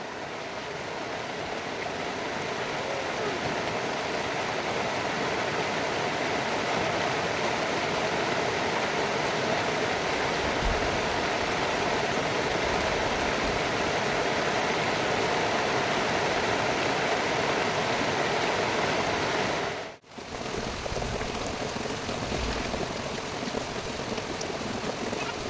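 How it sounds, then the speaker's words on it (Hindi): Heavy rain pours steadily and densely throughout in a village, a constant close hiss with a brief dip in level near the end. "देखो कितनी बारिश हो रही है, मैं भीग रही हूँ"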